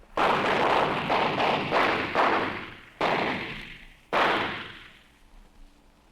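Gunfire in a video game shootout: a rapid string of loud booming shots, then two separate heavy blasts that ring out and fade, with no voices over them.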